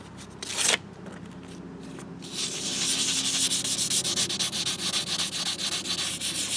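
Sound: sanding hydraulic cylinder rod with 600 grit emery paper

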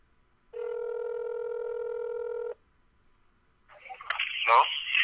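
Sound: telephone dial tone on business phone

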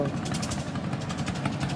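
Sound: boat engine on river crossing

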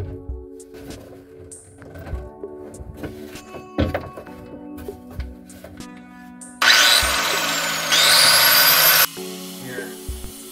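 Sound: grinder with flap disc grinding off screw heads

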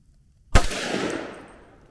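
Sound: 300 Blackout Hornady 125 grain ballistic tip rifle gunshot

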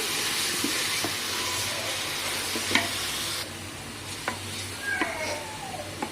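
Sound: meat being stir-fried (kosha) in a pan for mint biryani

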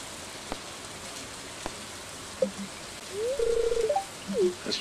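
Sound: rain in the video game Stardew Valley

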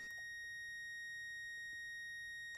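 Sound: beep of Snap-on EECT900 circuit tester confirming ground

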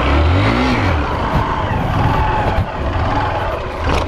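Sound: motorcycle engine revving in a video game (GTA)

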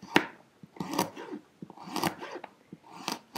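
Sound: knife chopping potatoes

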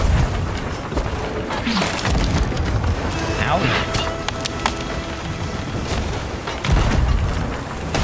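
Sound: ship cannon fire in a video game

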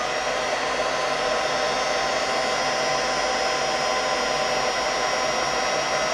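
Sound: heat gun heating wooden stamp

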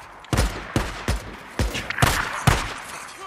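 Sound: shotgun firing in video game Days Gone

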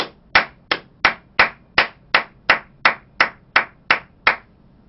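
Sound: audience clapping

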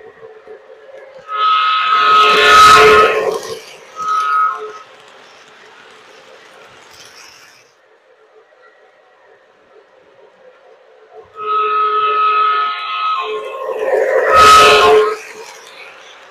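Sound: model train running around layout

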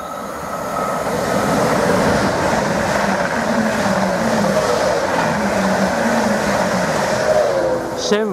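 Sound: Class 745 train passing through station platform

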